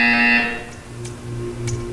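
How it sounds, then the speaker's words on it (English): A short electronic buzzer signal sounds sharply at the start, then cuts off, leaving a quiet background with faint clicks. "You will hear a buzzer."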